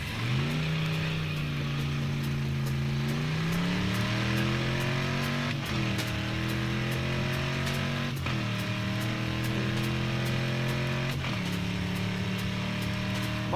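A 1965 Pontiac GTO launches hard on a standing quarter-mile run, its engine note climbing loudly through several rising sweeps with sharp breaks at each gear change, close and continuous with no talk.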